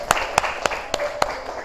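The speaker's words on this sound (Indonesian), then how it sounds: "Tepuk tangan." Students in a classroom clap together in unison, five sharp, evenly spaced claps in a quick steady rhythm, close and clear.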